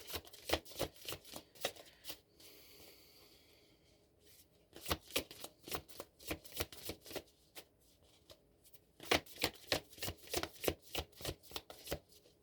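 A tarot deck being shuffled, rapid rhythmic riffling bursts of cards with a short pause in the middle, close and clear, no talking.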